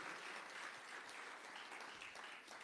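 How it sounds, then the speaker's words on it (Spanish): A church congregation claps steadily, a dense, even patter of applause heard faintly from a distance, with no voices over it. "¿Por qué no le das un aplauso fuerte a nuestro Dios y le dices, gracias Dios?"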